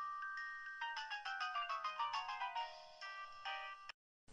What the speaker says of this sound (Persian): تلفنی کی زنگ میزند؟